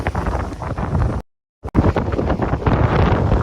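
Strong, steady wind from a typhoon in Tokyo roars and buffets the microphone, cutting out briefly in the middle before resuming just as loud.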